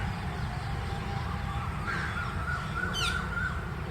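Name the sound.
bird calling in a park in New Delhi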